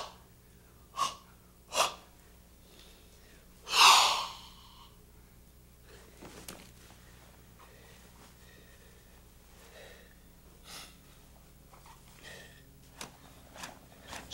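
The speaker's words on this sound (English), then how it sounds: "stretching with coordinated breathing, like an animal awakening from a deep sleep" Sharp breaths and a strong forceful exhale during Goju-ryu karate stretching with coordinated breathing, near and alone, with a few softer breaths scattered through otherwise quiet stretches.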